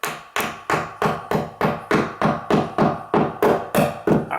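Steady rhythmic hammer taps driving glued dowels into door hinge screw holes, about a dozen sharp knocks evenly spaced, close and solid, with no talking.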